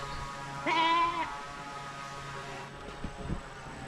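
A single goat, kept as a farm animal, lets out one clear wavering bleat close by. Quieter rustling, small thuds and a faint steady hum follow.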